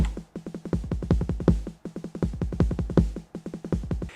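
A TR-909 drum machine plays a dense pattern of booming kicks and snappy snare hits, repeating in steady looping bars, loud and close with no voices.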